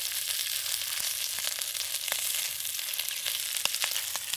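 Shrimp browning in oil in a frying pan for a curry stir fry give a steady, close hiss of sizzling with a few faint clicks and pops scattered through it and no voices.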